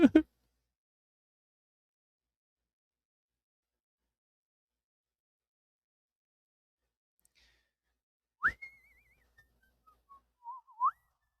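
After a long stretch of near silence, a person whistles a short, quiet tune that rises and glides downward over a few seconds, preceded by a soft breath.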